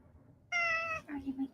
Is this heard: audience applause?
no